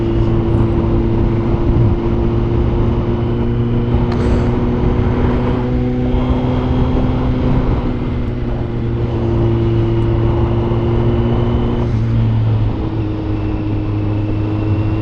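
A 2024 Kawasaki Z900 motorcycle rides through corners on a spring road, its engine a steady loud drone with a shifting pitch that holds close throughout.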